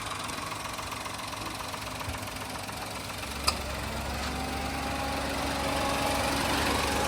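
A 2023 Toyota Wigo E automatic's engine runs at a steady idle, a continuous close hum with one sharp tap partway through and a slight rise in level toward the end.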